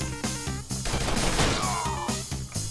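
Mercenary Kings gunfire rattles out as quick, evenly spaced shots with loud, punchy hits. A sweeping electronic tone and crash-like noise come in midway through the volley.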